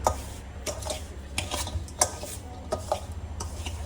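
Ingredients mixed together in a bowl by hand or spoon, a series of close, irregular clinks, scrapes and taps of utensil against the dish with no talk.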